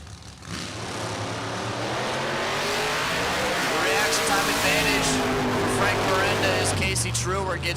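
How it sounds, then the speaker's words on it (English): A 1959 Rambler wagon hot rod in a drag race revs and roars down the strip, a loud sustained engine drone that rises in pitch, with an announcer talking over it. "right side Frank Miranda in the home wrecker for 59 Rambler wagon"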